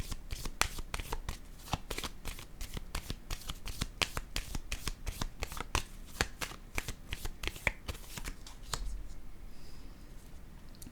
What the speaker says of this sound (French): Je vais déposer une carte sur le mariage.